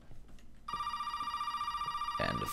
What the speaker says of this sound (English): and the phone called.